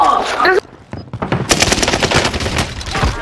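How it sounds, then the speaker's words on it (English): Rapid automatic Uzi fire in a competitive shooter video game comes in dense, loud bursts after a short cry from a player, with sharp rattling shots repeating to the end. "Taking shots here."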